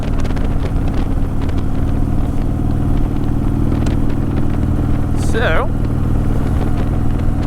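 Harley-Davidson Softail Sport Glide with a Stage II upgrade riding on the road, its engine a steady loud drone with wind rush throughout, while someone talks over it.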